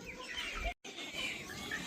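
Roosters clucking in a farmyard, a few short calls over steady background noise, broken by a brief moment of silence.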